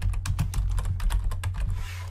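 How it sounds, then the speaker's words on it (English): Typing on a computer keyboard, a quick run of crisp, close keystrokes in an even rhythm lasting about two seconds, with no talk over it. "I can go ahead and just type in human resources here."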